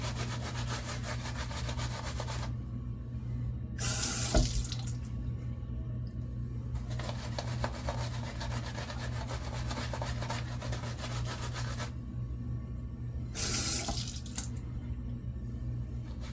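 Water splashing from a running tap in two short bursts over a steady low hum and rubbing sounds while someone works up a lather.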